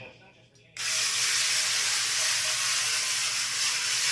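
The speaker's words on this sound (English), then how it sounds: "I spray a little cooking spray or rub a little oil in there" Cooking spray hisses steadily from a can into a baking pan, a close, loud, continuous spray lasting several seconds after a brief quiet start.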